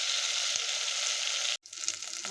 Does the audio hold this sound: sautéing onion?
yes